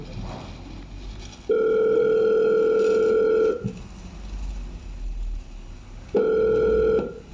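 On a live call-in show, an incoming call sounds on the telephone line as two loud, steady electronic tones: a long one of about two seconds and a shorter one a few seconds later, over quiet background hiss.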